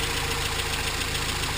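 A 22RE four-cylinder engine in a 1993 Toyota pickup with its stock exhaust manifold runs steadily, a close, even mechanical drone and rumble with no speech over it.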